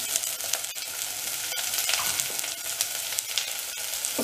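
Vegetables for Indori poha cook in a hot pan, a loud, dense, continuous frying sizzle with occasional stirring clicks.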